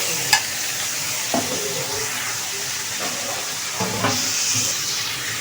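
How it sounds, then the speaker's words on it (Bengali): Chinese vegetables fry in a pan with a continuous close sizzle, broken by a few sharp scrapes and knocks as they are stirred now and then. No one speaks. "এখন এটা আমি ভালো করে ভেজে নিব"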